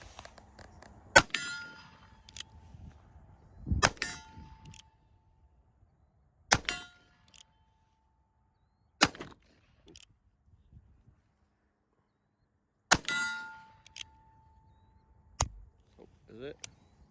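Pistol shots fired downrange on a cold outdoor range, five sharp, loud cracks spaced a few seconds apart with quiet gaps between, faint background sounds in the pauses.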